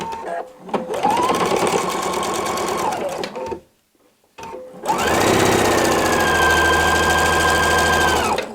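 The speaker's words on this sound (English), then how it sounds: "I'm going to sew my 1/4 inch seam." A sewing machine stitching a quarter-inch seam on a shoo fly quilt block, whirring loud and close in two runs separated by a short pause, the second run longer and steadier.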